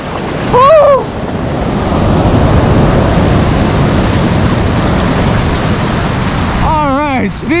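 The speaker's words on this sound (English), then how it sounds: "when two waves stack up on top of each other, they come up so fast and so hard, they can absolutely knock you right off your feet" Ocean surf with waves rushing and crashing at a perch fishing beach, a loud, steady roar of water and wind close to the microphone, with brief voice sounds near the start and end.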